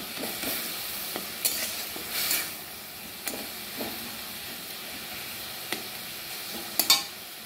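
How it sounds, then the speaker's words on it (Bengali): Pineapple and salt stirred in a hot pan with a steady sizzling hiss, punctuated by a few scattered scrapes and clicks of the spoon, close by with no talk. "আনারস থেকে জল বেরিয়ে আসা পর্যন্ত নাড়াচাড়া করতে হবে।"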